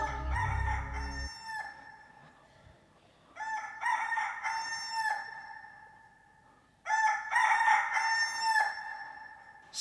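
A rooster crows three times, each a loud, close, drawn-out cock-a-doodle-doo separated by short pauses, with a brief low rumble at the very start and no talking.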